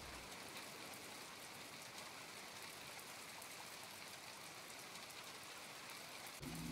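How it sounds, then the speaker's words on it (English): Steady rain falls in a video game, a dense, even hiss of drops on surfaces, loud and constant throughout with no talking. "Evidently it's raining. I've never had it rain before."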